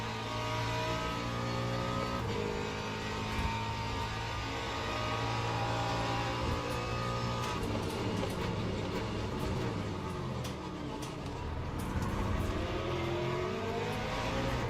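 Continuous engine drone from LMP2 prototype race cars lapping Sebring in the sim game Le Mans Ultimate, steady and loud with shifting pitch as cars close in and pass, several engines overlapping.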